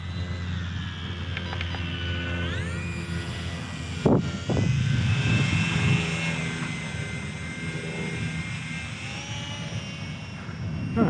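An Eachine Mini P-47 RC warbird flies with a steady, whining propeller buzz that rises and falls in pitch with the throttle. A voice talks over it now and then.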